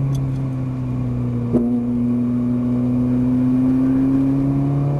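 A Ferrari 458 Italia on a race track at Auto Club Speedway gives a steady, sustained engine tone that rises slightly, with one brief click partway through and no voices.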